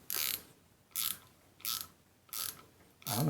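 A hand ratchet clicks in five short, quick bursts with brief pauses between them, close and crisp, as bolts are tightened on a floating brake rotor for a Sur Ron Light Bee electric bike.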